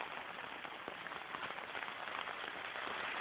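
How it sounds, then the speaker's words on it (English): Rain falls on a Cabela's Alaknak canvas tent, a soft, steady patter drumming on the fabric overhead, fairly quiet and continuous with no voices. "Raining pretty dang good."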